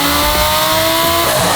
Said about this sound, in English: So that was, I just made a low boost hit